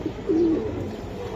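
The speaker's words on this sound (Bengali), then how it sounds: "এইটা হচ্ছে একটা মুসাল্লাম মাদি কবুতর।" A female Musallam pigeon gives one short, close coo against a faint, steady background.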